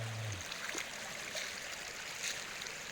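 Constant rushing of water flowing down a natural waterfall in Kut Chum, Yasothon, Thailand, a broad steady wash of noise, with a brief low hum at the start.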